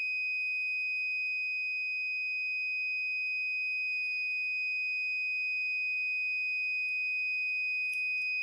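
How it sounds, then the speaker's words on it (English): A steady, piercing electronic buzzer tone from an Arduino temperature alarm triggered above 32 degrees Celsius by an LM35 sensor sounds continuously, with a few faint clicks and rustles near the end. "notice the sound of the buzzer"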